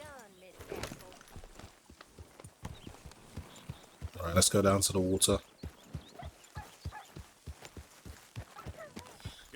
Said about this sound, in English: let me get my horse and get out of here